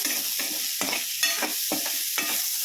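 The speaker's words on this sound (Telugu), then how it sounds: "onions green chilli and capsicum ఈ మూడు కూడా చిన్న చిన్న పీసెస్ చేసుకొని ఆవాలు జీలకర్ర వేలు వేయించుకుంటున్నాము" Chopped onion, green chilli and capsicum fry in oil with mustard seeds and cumin for a meal maker mixed vegetable curry, a steady close sizzle broken by repeated stirring scrapes in a pan, with no voices.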